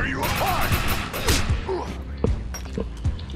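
Gunfire in the video game Defiance, a dense clatter of shots and thuds with rapid bursts and sharp impacts, mixed with game effects and possible voice.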